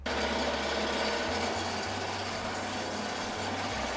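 Melco embroidery machine stitching a holiday design, a steady close mechanical whir with a low droning hum that shifts pitch in steps, continuous throughout with no talk.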